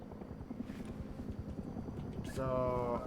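Helicopter in the Rust video game, a steady low rotor thrum and engine drone running throughout at close range, growing louder and more tonal toward the end, with talk over it.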